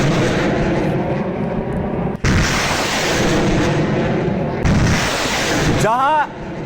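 Russian multiple launch rocket system strikes in Donetsk, Ukraine: dense rumbling roar of launches and blasts with sharp cracks and a sudden break, loud and sustained, with voices heard over it.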